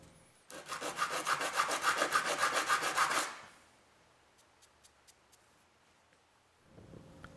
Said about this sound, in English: To help the epoxy hold better to the surfaces, rough up the wood pad with 80 grit sandpaper.